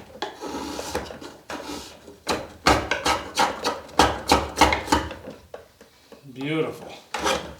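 A blade shaves wood across the growth rings in a quick series of rasping, scraping strokes, close and fairly loud. A voice speaks briefly near the end.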